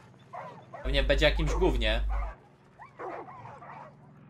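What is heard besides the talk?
dog barking and whimpering in video game Far Cry 5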